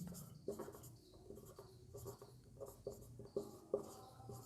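Steady chalk writing on a classroom board as an equation goes up: a run of short scratchy strokes and taps, close and fairly quiet, with no talking over them.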